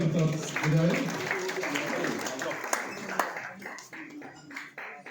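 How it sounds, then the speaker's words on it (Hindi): An audience at a pensioners' day gathering of electricity board retirees applauds, a faint, continuous patter of many hands mixed with murmured voices, the claps thinning out toward the end. "जोरदार तालियां प्लीज बजाएं।"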